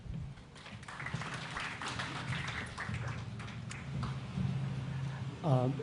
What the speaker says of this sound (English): So please, round of applause for Milton.